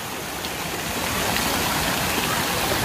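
Steady rushing water at a water park, a broad continuous wash like a stream or falls running the whole time without a break, with no talk over it.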